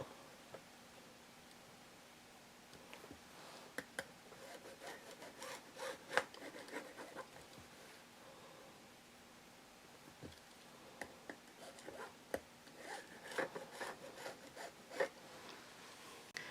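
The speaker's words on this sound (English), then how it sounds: "I'm just going to draw my first line right down the center of the fabric" Marker or pencil drawn along a ruler across quilting fabric, a series of quiet scratchy strokes and soft rubbing with occasional ticks, close and faint with no talk.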